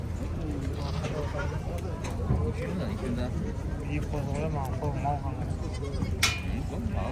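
Sheep and goats bleat at a Kazakh livestock market, with several animal calls scattered over steady crowd noise as people talk nearby.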